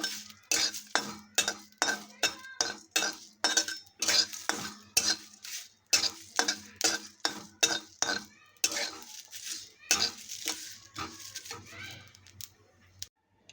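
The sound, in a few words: dry roasting cumin in a kadai over low flame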